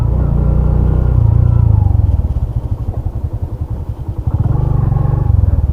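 Close up, a Suzuki Hayate EP motorcycle engine hums, then settles into a distinct rapid chugging idle before swelling again to a steadier drone near the end, with no voices.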